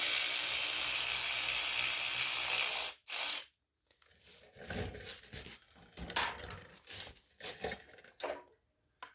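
A ratchet with a 7/16 socket works a bolt loose on a Cub Cadet riding lawn mower, giving a steady hiss-like whir, then a pause and a series of close, irregular clicks and mechanical clatter.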